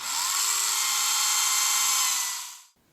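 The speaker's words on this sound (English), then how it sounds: "I'm going to drill a hole in here, not very deep" A small power drill whines steadily for over two seconds while boring a shallow hole into the leg of a miniature dwarf Santa figure, then spins down and stops abruptly; close and alone.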